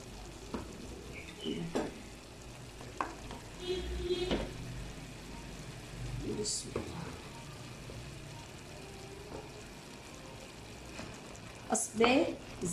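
Meat for aloo gosht sizzles and fries in ghee in a home kitchen pot, a steady low crackle broken by occasional scraping stirs and clinks, with someone talking over it.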